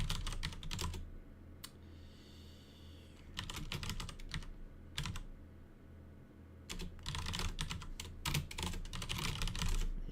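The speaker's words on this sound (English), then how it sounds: "You can listen to a keyboard in the meantime." Typing on a computer keyboard during a game-development session comes in bursts of quick, close clicks separated by short pauses, with no talk.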